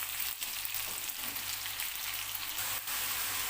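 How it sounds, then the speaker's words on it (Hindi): Finely chopped potatoes sizzle steadily in a hot frying pan, a dense crackling hiss that holds even throughout with a few brief dips, close up and with no voices over it. "अब हम इसके अंदर ऐड करेंगे पोटैटो बारीक कटे हुए।"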